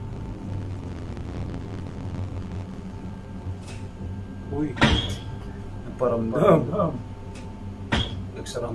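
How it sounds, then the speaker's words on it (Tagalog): Inside a house, a door swings shut on its own with a sharp thud, followed by another softer knock later, over a quiet room hum while a narrator speaks. "Isang pinto ang mag-isang sumara."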